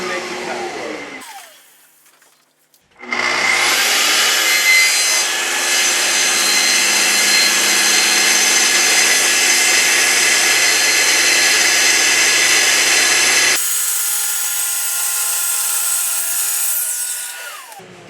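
A track saw starts up, plunges and cuts slowly forward, giving a loud, steady, broadband whine with rough cutting noise that holds for about ten seconds. The pitch then drops as the blade slows, and the sound fades out.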